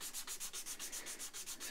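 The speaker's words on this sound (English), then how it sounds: "So I'm just sort of cross sanding to ease out some of the 400 grit" Fine 400-grit sandpaper is worked back and forth across guitar frets on a Cort G280 during a setup, giving a steady run of about ten rhythmic rasping strokes, close and fairly soft, with no talk.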